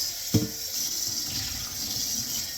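Tap water pours steadily into a cooking pot for steaming, a close, continuous rushing hiss after a short clunk at the start.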